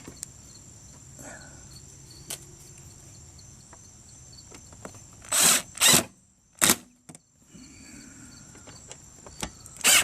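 An impact driver works a bolt on the carburetor of an Excell VR2500 PSI pressure washer, giving three or four short, sharp whirring bursts over a quiet background with a steady insect-like hum.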